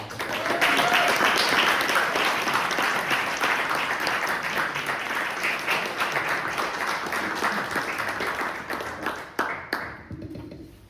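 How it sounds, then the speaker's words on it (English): Sustained audience applause at a poetry reading, loud and dense for about nine seconds before tapering off into scattered claps and quiet. "Please, a round of applause for Devon."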